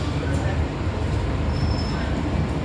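Rumble of a Hong Kong Disneyland line train in motion, heard from inside the carriage as a steady, fairly loud rolling drone with a faint high squeal partway through.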